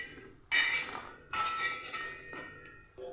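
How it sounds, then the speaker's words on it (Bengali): Fried masoor dal fritters made with hog plum are set onto a plate, producing a few sharp, close clinks and clatters against the dish in short separate bursts. "আমি এইভাবে ভেজে উঠিয়ে নিচ্ছি একটা প্লেটের মধ্যে।"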